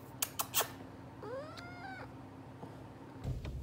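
A house cat gives a single drawn-out meow, preceded by a few sharp clicks and knocks, in a quiet indoor room.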